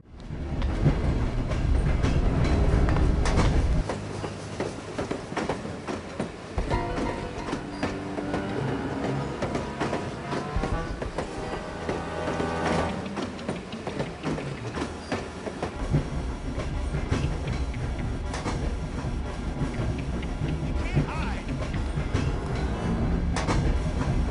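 A train passing through a level of the stealth shooter No One Lives Forever, with steady loud rumbling and rhythmic rail clatter that runs throughout, strongest at the start and then continuing as a sustained roll.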